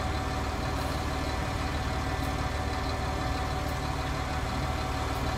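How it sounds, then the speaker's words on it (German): A tractor engine in the farming game Farming Simulator 19 runs in a steady, loud, even drone that fills the whole stretch with no talk over it. "Motor erstarten."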